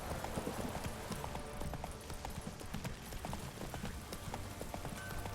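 Roach the horse's hooves clip-clop in a steady rhythm in The Witcher 3 video game, a continuous close trotting patter over ambient game sound.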